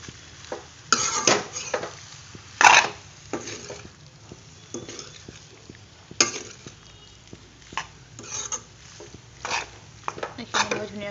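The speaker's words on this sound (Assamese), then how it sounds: "এইখিনি মই ধুনীয়াকৈ লৰাই ইয়াত এতিয়া সোৱাদ অনুসৰি নিমখ দি দিম" Cooked macaroni is stirred in a metal pot, with repeated scraping and clanking of a spoon against the pan at an irregular pace over a faint sizzle, and a voice talks briefly.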